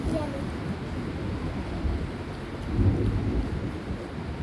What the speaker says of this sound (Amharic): ዝናብም እየጣለ ነው።